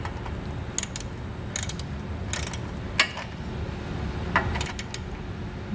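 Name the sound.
tightening bolts with an 11 mm socket ratchet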